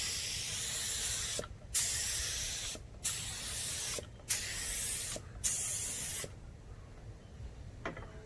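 Five long bursts of aerosol spray paint hiss over Mandalorian costume armor in the Beskar version, each near and steady and separated by short pauses, with a softer faint hiss at the end.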